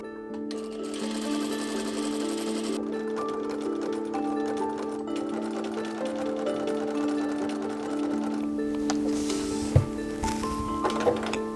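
A sewing machine stitches a gown bodice in a fast, steady mechanical whir, with short pauses and a few clicks and handling knocks near the end.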